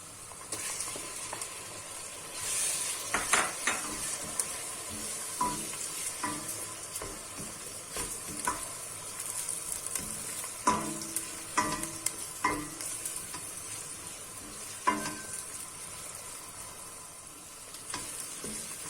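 Ground meat and onions sizzle steadily in a frying pan while a spoon stirs and scrapes, with irregular clacks against the pan throughout.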